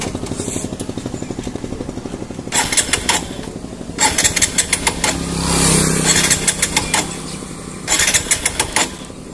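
A motorbike engine cranks repeatedly but fails to catch, giving a rhythmic chugging with bursts of louder sputtering, close and fairly loud.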